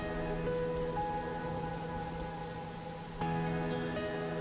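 Steady rain falling on a surface, a constant dense patter with a low hum and tones mixed in throughout.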